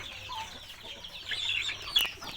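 Chickens, a meat-breed breeding stock rooster among them, cluck in short repeated calls nearby, with a sharper louder cluck near the end over faint farmyard background.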